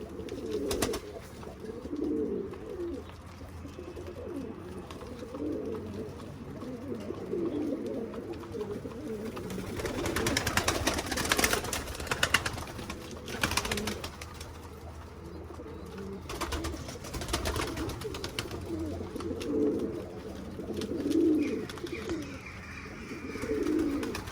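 Pigeons coo repeatedly at close range inside a coop, soft throaty calls overlapping amid faint rustling and background hum, with no talking.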